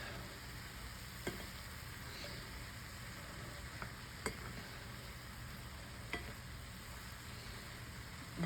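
Seasoned quinoa with salt and pepper is stirred in a pan, a faint low sizzle with a few sharp isolated spoon ticks spaced several seconds apart.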